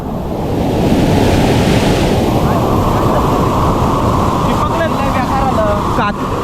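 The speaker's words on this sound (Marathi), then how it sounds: "असा वेगळा धबधबा वाटायला लागला मोठा काळा काळा पाणी आलं ना" Floodwater in a swollen river rushes and churns like a waterfall, a loud, steady, broadband roar that continues without pause, with faint voices barely audible underneath.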